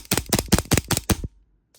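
Six sharp, evenly spaced shots from an airsoft pistol with a metal slide and metal lower frame, cracking out in quick succession at close range, then silence.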